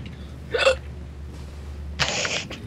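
Two short hiccups, clearly audible in a quiet moment during a multiplayer session of the airship game Guns of Icarus, the second one louder and a little longer.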